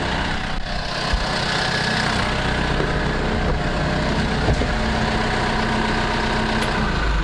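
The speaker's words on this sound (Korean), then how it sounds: "시끄러우니까 이제 시동 끄고 가겠습니다" A tractor engine idles loudly and steadily close by, a dense low rumble with a constant drone that holds throughout before it is switched off, while rotary tiller implements are being attached on a farm.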